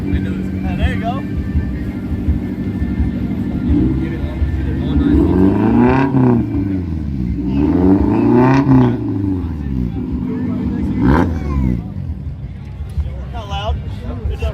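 A car engine rumbles steadily at a car show, rising in a few revving swells before settling back, with a murmur of crowd noise in the background.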